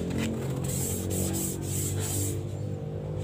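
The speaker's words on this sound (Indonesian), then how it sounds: "Selanjutnya ini mau kita gosok dengan amplas 240 tapi bekas ya." Steady, continuous rasping of used 240-grit sandpaper rubbed back and forth over a wooden birdcage, close up and unbroken, with no voices.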